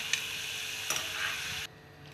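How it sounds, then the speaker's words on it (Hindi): Chana dal for namkeen is roasted and stirred in a pan with a ladle, making a soft steady sizzle and rustle broken by occasional scrapes and clicks of the ladle, with no voices. "दूसरी बार भी अपन ऐसे ही सेक लेते हैं, अच्छे से भून लेते हैं इनको"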